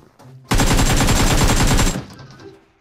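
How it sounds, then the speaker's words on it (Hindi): Loud close machine-gun burst in the mobile shooter BGMI, a rapid continuous stream of shots lasting about a second and a half, then cut off, with quieter game noise before and after. "उस साइड से, फायर हो रही है"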